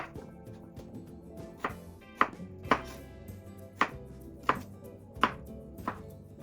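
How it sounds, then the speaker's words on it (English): A knife cuts cucumbers into cubes on a cutting board in a string of crisp, irregular chops that sound close and clear. A few strokes land harder, and no one speaks. "Next is to prepare our cucumbers into cubes, the same way as the watermelon for uniformity."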